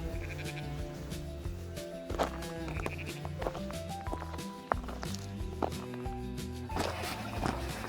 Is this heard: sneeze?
no